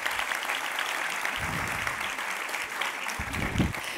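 Audience applause after a presentation at a French science round-table, a steady dense clapping filling the whole stretch with no speech over it.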